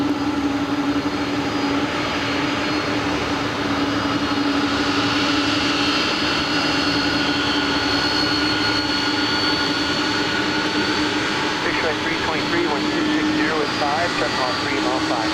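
Steady roar of jet aircraft engines at LAX airport, a continuous loud drone with a persistent low hum and broadband rush throughout, voices faintly audible in the background.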